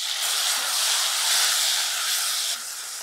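Tomatoes dropped into a hot pan for peanut curry give off a strong, steady hiss of sizzling that holds evenly for about three seconds before dropping a little at the close.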